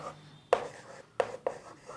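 Chalk or pen strokes on a board in a class 12 math lesson, three short sharp scratches spaced apart, close and fairly quiet, with no talk in between.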